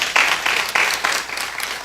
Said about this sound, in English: Please let us applaud because of that.